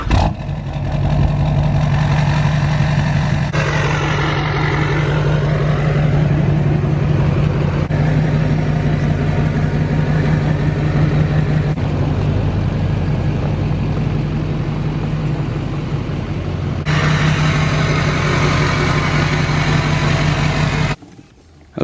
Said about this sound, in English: I'm gonna pull the truck in the garage